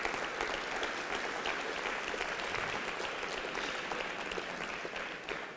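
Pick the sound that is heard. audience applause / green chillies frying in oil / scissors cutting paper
audience applause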